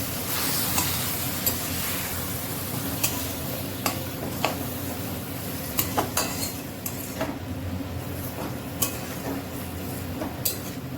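Marinated chicken pieces going into a pan of onions and being stirred, with a steady frying hiss under frequent metallic scrapes and taps of a utensil against the pan, close and continuous.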